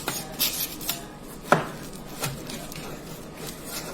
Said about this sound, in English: I'm just gonna cut a couple of slices off.